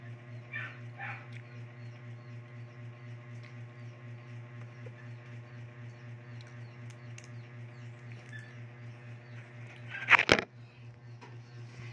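A steady low hum runs throughout, broken near the end by a single sharp, loud bark-like yelp from a dog.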